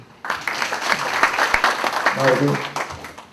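Applause from delegates at a union assembly, a short burst of clapping mixed with voices talking over it.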